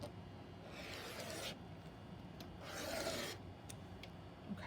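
Rotary cutter slicing long fabric strips for a scarf project, two steady rasping strokes across the cloth on a cutting mat, moderately close, with quiet pauses between.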